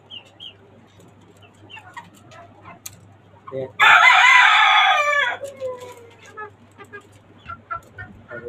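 Chickens on a farm atop the roof of a five-storey building in Dhaka, with a rooster giving one loud, close crow mid-clip among scattered clucks and soft bird calls.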